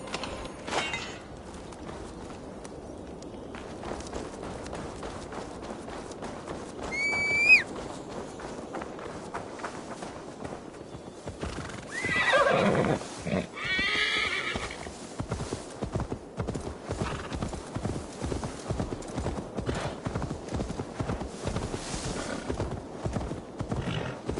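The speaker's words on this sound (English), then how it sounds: "Now to deliver Magni his horse." A horse in a PS4 video game clip-clops along with a steady stream of close hoofbeats throughout, broken by one sharp whinny early on, with no talking.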